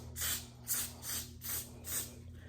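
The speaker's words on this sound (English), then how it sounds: "It stays down more with the spray." Hold spray hisses from an aerosol can in five short, even bursts during a 13x6 water-wave wig install. The bursts are close and loud over a steady low background hum.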